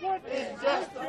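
Protesters outside near a plane carrying undocumented immigrants, a man among them yelling toward the aircraft; short, loud shouted voices rise and fall over crowd noise.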